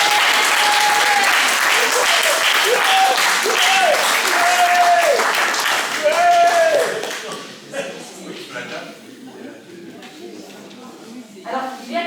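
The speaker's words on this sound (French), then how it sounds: "je vous demande d'applaudir Pierre" An audience at an evening pilgrimage testimony gathering applauds warmly for several seconds, the clapping dense and loud before thinning out and fading, with bright sung or spoken tones layered over it and scattered claps at the end.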